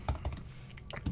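Quick keystrokes on a computer keyboard while typing a MongoDB database query, a close, irregular run of soft clicks over about a second.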